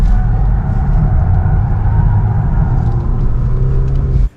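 A BMW 330e on a hot lap around a Formula E circuit gives a loud, steady engine and road rumble throughout, with no talk, cutting off abruptly at the end.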